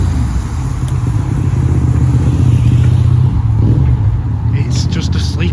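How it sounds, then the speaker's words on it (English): A loud motorbike passing through Alderley Edge village, a heavy engine rumble that holds steady and near throughout, with traffic noise around it and people talking underneath. "I'm only saying loud bikes because of the one we've just seen"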